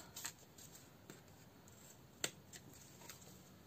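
Scissors cutting through craft material during a handmade wish-making project, producing soft, sparse snips with one sharper cut standing out, close and faint, with no talking.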